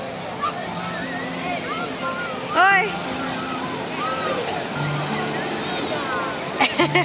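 Steady surf washes continuously in the background on the beach at Kunkeshwar, Sindhudurg, while people talk and children's voices come and go nearby.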